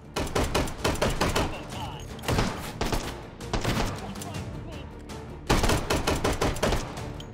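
A 1911 pistol fires in the VR shooter Hot Dogs, Horseshoes & Hand Grenades, with sharp shots coming in quick clusters of several rounds, short pauses between bursts, and a voice faintly underneath.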